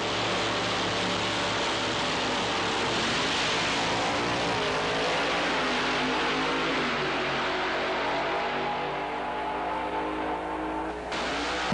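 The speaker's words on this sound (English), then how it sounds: "Tommy Howes of Wild Bunch fame running this blown Camaro." Tommy Howes' supercharged Camaro drag car makes a loud, ragged engine blast that runs continuously, shifting pitch as it pulls down the strip, before cutting abruptly near the end.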